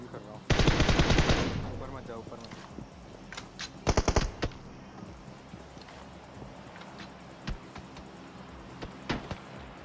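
Bursts of rapid M416 assault rifle fire in PUBG, one long close spray followed by shorter volleys and scattered single shots, with faint wind noise behind.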